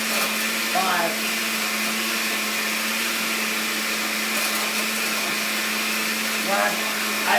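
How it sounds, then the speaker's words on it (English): A blender runs steadily on a full load of creamy cannabis smoothie, a loud continuous motor whine with slight pitch shifts as the contents churn, no speech over it. "my blender is pretty much damn full"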